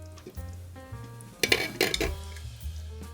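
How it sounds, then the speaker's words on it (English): A slow cooker lid is lifted off a pot of BBQ baked beans after two more hours of cooking, giving a few brief clinks and clatters of the lid against the crock over a low background hum. "so we're going to open our lid"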